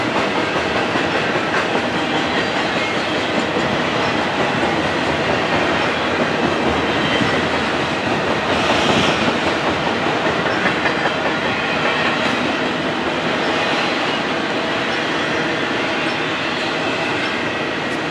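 A freight train hauling big old boxcars rolls past near Crockett, California, with a loud, steady rumble and rhythmic wheel clatter that holds close and unbroken throughout, with no voices.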